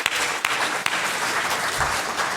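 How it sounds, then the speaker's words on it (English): Audience applause at a Star Wars convention panel, a dense steady wash of clapping from a large crowd, with a few sharper claps standing out. "Give her a round of applause."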